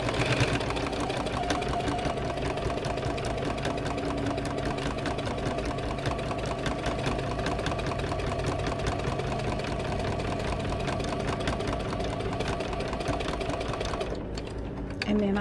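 A sewing machine runs steadily, stitching around fabric pieces for a small skunk and rabbit craft, its continuous mechanical whir close and loud until a brief pause near the end.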